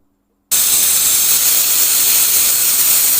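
After a brief silence, a pressure cooker holding rice and lentils for vegetable khichuri suddenly lets out a loud, continuous, close rush of hissing steam that holds steady to the end.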